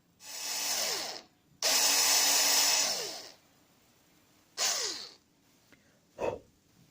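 Power drill boring new holes into a Squier Stratocaster guitar body, three loud bursts of whirring and grinding with a short fourth, separated by quiet pauses.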